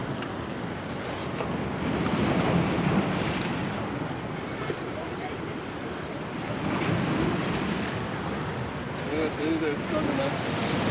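Sea waves wash and slosh around a small fishing boat in choppy water, with steady wind rushing across the microphone, forming a continuous, fairly close roar that swells slightly at times.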